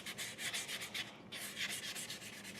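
Sanding a painted armor suit part, likely wet sanding, makes a steady rhythmic rubbing scrape in quick back-and-forth strokes, close and fairly loud, with a brief pause midway.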